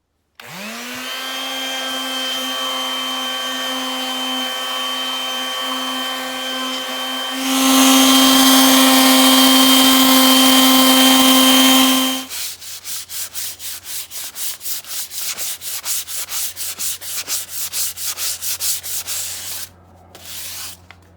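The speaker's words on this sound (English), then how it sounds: "I'm going to use a 60 grit on this sander here" An electric sander with 60-grit paper works over a wooden walking stick: a steady whining motor hum builds into a louder, gritty abrasive rasp, then gives way to rapid rhythmic pulsing as the tool winds down.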